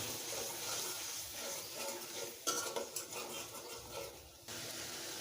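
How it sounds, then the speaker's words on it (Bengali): Ginger-garlic paste and cumin paste being stir-fried for a rohu fish curry, with a spoon scraping and clinking steadily against the pan over a soft sizzle, close and continuous with no talk. "এখন ভালোভাবে কষিয়ে নেব।"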